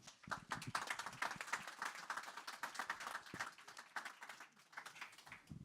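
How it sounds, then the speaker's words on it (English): Applause for panelists at a European innovation conference, a brisk round of clapping from a room audience with distinct individual claps, moderately quiet and fading slightly toward the end. "Give them a round of applause."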